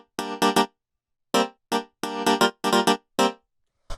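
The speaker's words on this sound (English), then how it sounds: "the last synth sound that we have down here is just this clap" A synth clap from a deep tech micro house track, with short reverb, hitting in a loose pattern of about eleven sharp, bright bursts, some in quick pairs, loud and alone with clear gaps between them.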